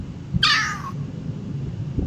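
Summoned cat in an anime meows once, a clear, fairly loud, drawn-out cry lasting about half a second over a low background rumble.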